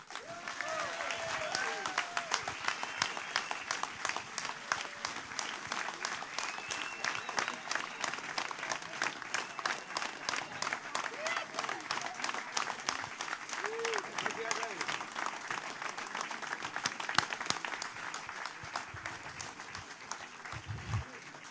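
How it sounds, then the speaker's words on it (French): A rally crowd at a closing campaign meeting gives a long, steady, dense round of applause that holds for about twenty seconds, with faint voices mixed in. "je vous demande d'applaudir sous un tonnerre d'applaudissements Monsieur Gaël Yano."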